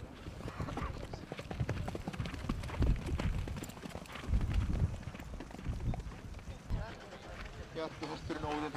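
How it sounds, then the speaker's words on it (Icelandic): An Icelandic horse's hooves clip-clop in a steady, continuous gait, fairly close and sustained throughout, while a commentator talks over the footfalls. "Bjarki hesturinn Óðinn frá Eystra-Fráðholti"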